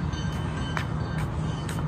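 A Portland MAX Orange Line light-rail train at the SE Water Ave station gives a steady, close rumble with a faint tonal hum and a few light metallic clicks.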